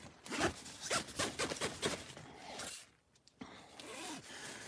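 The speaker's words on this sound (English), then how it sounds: "Let me get the zipper for you." A clothing zipper pulled several times in quick strokes at close range, loud and rasping, with a short pause before a final softer pull; no talk.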